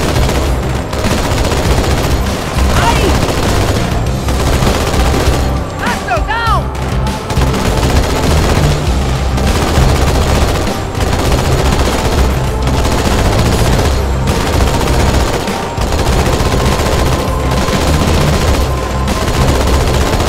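Sustained automatic gunfire and rapid bursts fill a Halo 2 Anniversary firefight, loud and dense throughout with little pause, and indistinct voices mixed in.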